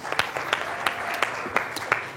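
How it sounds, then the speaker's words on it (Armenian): Studio audience applause on a sports quiz show, a steady wash of clapping with sharp individual claps popping out at regular intervals, moderately loud and without talk. "ծափերի ներքո գնացինք"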